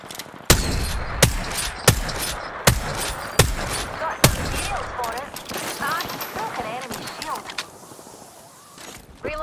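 Video game gunfire against bandits, loud sharp shots in quick uneven bursts over the first half, then fading under players talking.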